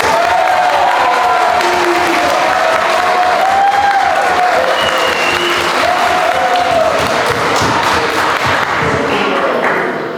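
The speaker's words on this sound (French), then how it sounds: "je pense que ça mérite quelques applaudissements" Wedding guests applauding the couple at an evening reception, steady loud clapping throughout with some cheering and a voice rising over the crowd.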